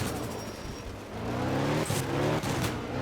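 Rally car engines in the video game Art of Rally, a steady droning motor that rises in pitch as it revs and accelerates, loud and close, with no voices.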